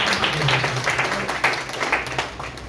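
An audience at a network marketing business gathering bursts into brief, steady applause, a close wash of clapping lasting a few seconds with faint room noise beneath.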